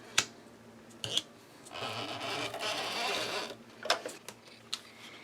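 An ATG adhesive gun runs glue strips along a paper edge: sharp clicks and snaps open and close a soft, continuous ripping hiss as the tape feeds out, all close and quiet with no voices.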